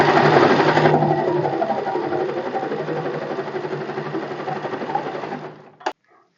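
A sewing machine stitching a lined katori blouse runs in a steady, close, loud whirring drone for several seconds, then slows and stops with a couple of small clicks at the end.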